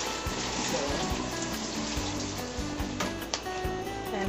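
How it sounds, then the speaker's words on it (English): Potatoes are rinsed under a running kitchen tap, a steady close rush of water splashing over the tubers with faint irregular knocks as they are turned and handled. "now we're going to wash the potatoes under a little brimming water to get the dirt off"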